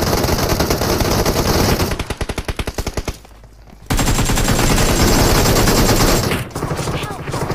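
Rapid machine-gun bursts from the mobile battle game BGMI rattle loud and close in dense volleys, broken by a short pause, then resume in sustained fire.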